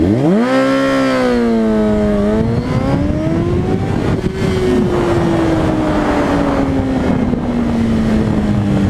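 A motorcycle engine revs up sharply and then holds a loud, droning pitch that slowly falls as it rides on, with wind rushing over the microphone.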